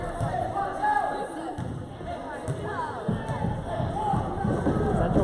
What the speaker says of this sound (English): Central Penn crowd really into it when Penn State shoots free throws